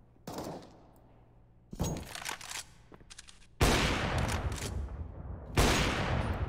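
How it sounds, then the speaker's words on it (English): Loud rifle gunfire from Counter-Strike, including the AWP sniper rifle, during a competitive esports match: several sharp shots, each followed by a long ringing decay, coming in separate bursts with gaps between them. "Beaky, nice headshot there onto Austin."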